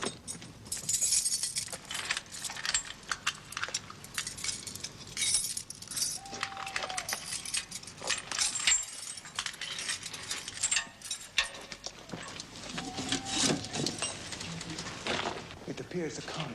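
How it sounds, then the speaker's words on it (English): Skeleton keys jangle and clink as they work a lock in a Dracula video game, a steady metallic rattling over a busy, echoing game soundscape with faint voice-like murmurs. "Produce the skeleton keys."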